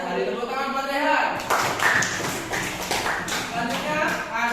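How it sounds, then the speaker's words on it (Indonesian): Schoolchildren in a classroom clap for a classmate, a brisk burst of close, scattered hand claps that starts after a teacher's voice and continues steadily to the end. "Tepuk tangan buat Rehan"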